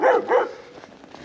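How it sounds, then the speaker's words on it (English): Dogs fenced inside a garden give two quick loud barks close by, followed by fainter whimpering yips. "What are you barking at me for?"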